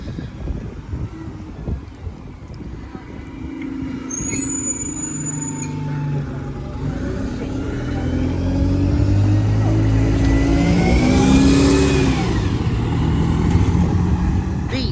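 A route 502 bus to Kennington moves off at Ashford International, its diesel engine rising and revving over outdoor wind and traffic, after a short hiss of air brakes near the start.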